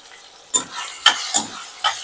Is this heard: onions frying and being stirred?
yes